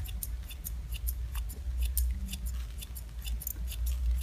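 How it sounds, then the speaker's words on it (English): Scissors point-cut hair for a lob or bob, making a steady series of quick, crisp, faint snips repeating close up throughout, with no talking. "now you can go in and deep point cut it if you like"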